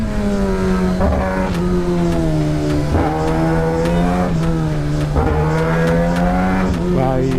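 Kawasaki ZX-10R sport motorcycle ridden on the road, its engine a loud, steady droning roar with repeated rises and dips in pitch as it shifts gears, close to the rider throughout.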